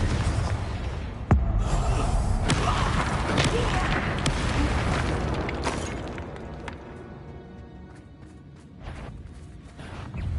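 A Confringo blasting spell in Hogwarts Legacy sets off a loud booming explosion with crashing debris, followed by rumbling and clattering that fades over several seconds.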